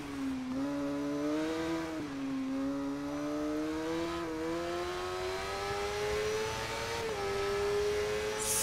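A racing motorcycle in the TT Isle of Man video game accelerates hard, its engine whine climbing in pitch and dropping briefly at each of three gear shifts, loud and continuous.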